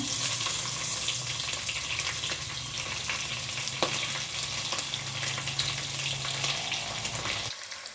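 Mustard seeds and curry leaves sizzle steadily in hot oil with garlic in a pan, a loud continuous fry that cuts off near the end, with no talking.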